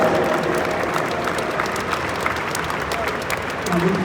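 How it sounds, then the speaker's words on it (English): Steady, dense applause from a large crowd fills the whole stretch, loud and continuous without letting up. "Please give him a great big round of applause."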